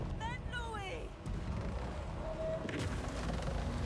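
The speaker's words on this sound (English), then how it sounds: "And we're gonna cause an explosion while we're at it." Explosions and battle din in the fantasy strategy game Total War: Warhammer, a heavy rumbling boom and dense roar under in-game shouts and whistling sounds, loud and continuous.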